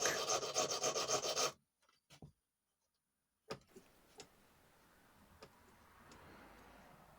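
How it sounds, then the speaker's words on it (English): A tool scrapes and rasps steadily to sharpen the points of a hawthorn bowl-turning mandrel for a pole lathe, close and rhythmic, then stops, followed by a few light knocks and soft rubbing. "the last job is to sharpen the points of them so that they can go into the blank"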